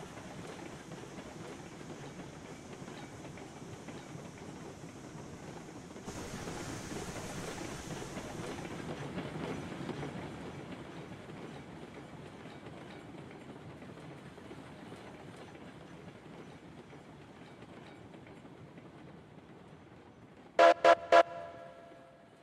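Six locomotives hauling twenty oil tankers in the video game Railroads Online, a long steady rolling rumble with faint clatter, then three short loud horn toots near the end.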